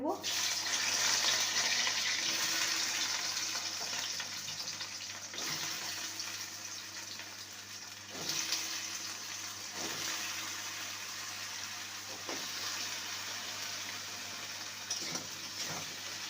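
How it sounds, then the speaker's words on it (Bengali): Taro roots and a medium-sized potato frying in mustard oil in a pan, a constant hissing sizzle with occasional crackles and stirring knocks throughout. "প্রথমে কচু আর আলুকে ভেজে নেব"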